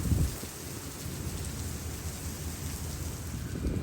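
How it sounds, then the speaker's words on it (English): Heavy Arizona downpour, a dense, loud, continuous roar of rain pouring down and striking surfaces, with a low rumble underneath. "It rains so hard."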